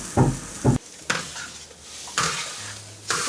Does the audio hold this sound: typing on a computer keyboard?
no